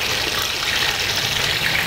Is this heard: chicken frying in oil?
yes